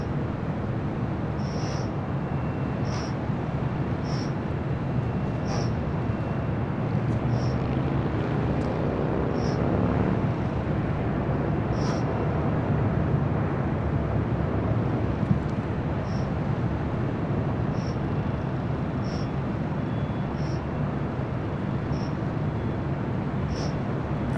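Southwest Boeing 737-700 airliner swinging around while taxiing at LAX, a sustained engine rumble and whine at moderate distance with faint repeated high beeps over it.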